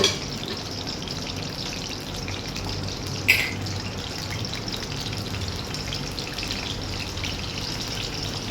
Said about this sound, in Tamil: கடுகு வெந்தயம் ஜீரகம் இது 3 போட்டாச்சு